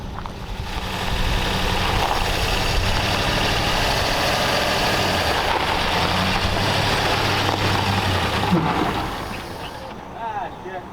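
A 1934 Ford Delivery engine idles steadily after a restart, a low rough rumble that holds for most of the stretch, then fades near the end while a voice briefly speaks over it.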